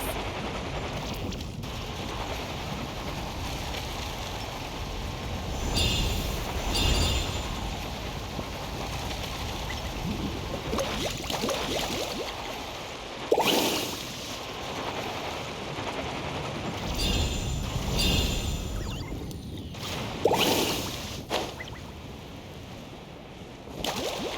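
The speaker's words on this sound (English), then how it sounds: "Carving waves!" A boat in Genshin Impact carves through ocean waves with a continuous rushing wash of water, swelling in surges and splashes at intervals, under game music.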